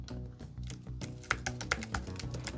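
Fingers type on a computer keyboard close by, a quick uneven run of light clicking keystrokes with no voices.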